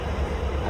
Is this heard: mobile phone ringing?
no